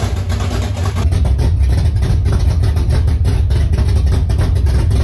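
A car engine with a 351 V8 idles steadily and loudly up close, a continuous low rumble with a slightly uneven throb throughout.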